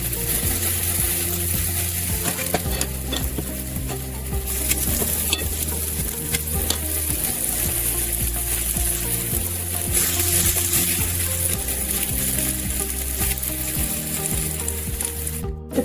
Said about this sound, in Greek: Με πόσο λίγο λαδάκι το τηγανίζω.